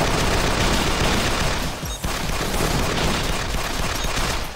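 Dense, continuous barrage of heavy cannon fire in the video game Assault Gunner, loud and sustained throughout with only a brief dip midway, shots blurring into one roaring fusillade.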